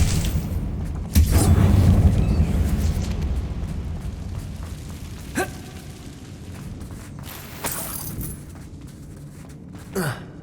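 A Confringo fire-spell blast in the video game Hogwarts Legacy, set in a mine: one loud, deep boom that rumbles for about a second, then fades, followed by a few sharper, quieter bursts spaced out across the clip.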